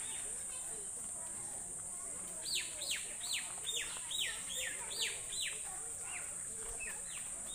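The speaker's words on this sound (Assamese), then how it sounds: "এইবিলাক চৰাইবিলাকে কেনেকৈ মাতি আছে" Several birds chirp and whistle outdoors while descending from high hills, the calls coming in a rapid string of repeated bright notes. They sound moderately near over a steady background hiss, and a voice speaks quietly underneath.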